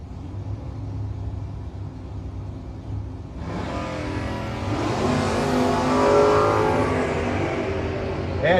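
A Plymouth Valiant and a Vega launch side by side at a no-box drag race, engines rumbling at idle before a sharp surge into loud revving acceleration that builds and carries on.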